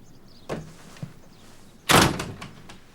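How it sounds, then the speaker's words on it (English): An indoor door pushed shut with a single solid thunk, preceded by a couple of fainter knocks from handling, all with no talking. "Shut the door."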